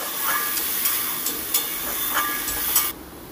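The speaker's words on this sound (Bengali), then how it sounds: "এবার দিয়ে দিচ্ছি ধনেপাতা আর কাঁচা লঙ্কা বাটা। নেড়েচেড়ে একটু ভেজে নেব।" Coriander leaf and green chilli paste frying in a pan for a bhola fish curry, a steady bright sizzle and hiss with small crackling pops, heard alone until it cuts off abruptly near the end.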